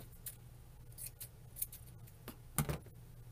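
Scissors snip through a yarn pom-pom in a quick, uneven run of close, crisp cuts, with a slightly louder double snip near the end.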